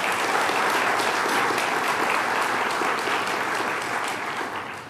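Sustained applause from an audience at a governor's funding award event, steady and dense throughout before tapering slightly at the end, with no talking over it.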